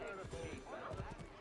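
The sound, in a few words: horse hooves in Assassin's Creed III video game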